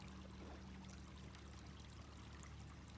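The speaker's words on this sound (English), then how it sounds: "I love the sound of this little creek right here." A small forest creek runs along a trail, a soft continuous rush and trickle of water that stays even and fairly quiet throughout.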